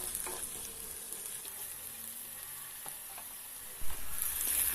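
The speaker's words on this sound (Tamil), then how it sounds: "ஒரு 2 நிமிஷம் நல்லா வதக்கிக்கலாம்." Onion, garlic and halved dried red chillies sautéing in a pan for onion chutney, a continuous soft sizzle with occasional scrapes of a spatula and a brief louder clatter near the end.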